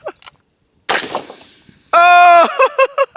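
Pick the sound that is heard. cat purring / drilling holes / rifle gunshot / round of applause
rifle gunshot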